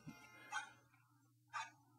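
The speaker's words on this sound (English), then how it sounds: "This is a DS game, and he's barking." A small dog barks in a Nintendo DS game, two short sharp yaps about a second apart, quiet and electronic-sounding over a low steady hum.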